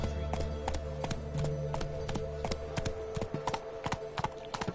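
Hooves of Roach, a horse in a PlayStation 4 game, clopping in a quick galloping rhythm over a steady tonal game backdrop, fairly close and clear.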